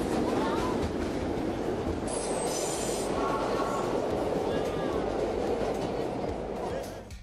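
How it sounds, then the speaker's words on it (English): A 1930s subway car riding the rails, a loud, continuous roar of wheels and rattling with brief high metallic squeals, heard from on board, fading slightly at the end. "The noise on board was deafening, far louder than a typical trip on the modern subway."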